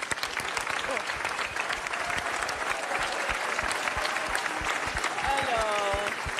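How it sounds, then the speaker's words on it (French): Warm applause fills a hall after a teenager questions the French president, a dense, steady clapping from a large audience with voices and murmurs mixed underneath throughout. "Applaudissements donc chaleureux dans la salle"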